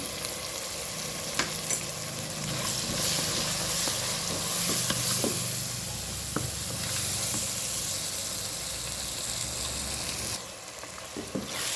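Black pepper powder tempering sizzles steadily in hot oil in a pan for a country chicken curry with coconut milk, a continuous close frying hiss with occasional stirring clicks, no voices.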